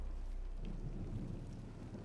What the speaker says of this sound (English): Make the rain stop.